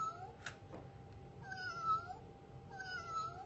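Squeezed by its trigger, a cat paw desk toy gives two electronic meows a second or so apart, heard close up after a faint tap, with a low room hum underneath and nobody speaking.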